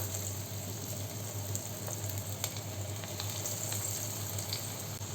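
Parippu vada, lentil fritters, deep-frying in hot oil, giving a soft, even, continuous sizzle with faint bubbling crackles and a low background hum.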